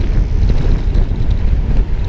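Loud, steady wind buffeting the microphone in a constant low roar, with no voices, on a fast downhill bicycle ride.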